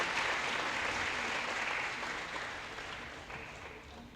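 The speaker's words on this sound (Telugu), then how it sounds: "మనందరం చప్పట్లతో నాటా నిర్వాహకులందరినీ అభినందించాల్సిన అవసరం" Audience applause for the NATA organisers during a Seva Days 2015 welcome event, a steady dense wash of many hands clapping together, fairly distant and tapering slightly toward the end.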